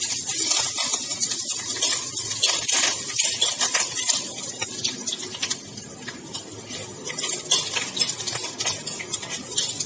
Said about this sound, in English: I'll just pinch these curry pattas or tear these into two and add it into the tempering